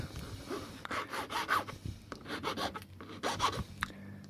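A newly cut padlock key is rubbed down to smooth it, making a series of short, close, scratchy strokes in an uneven rhythm, with no talking.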